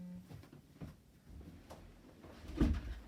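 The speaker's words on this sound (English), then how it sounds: "Just going to shut the door." A door is shut indoors in a home craft room, with soft handling noises and then a single dull thud near the end, heard close and without talk.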